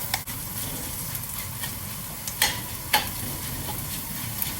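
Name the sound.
mushrooms popping while stir-frying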